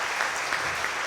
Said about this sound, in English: If we can get a round of applause for Mike.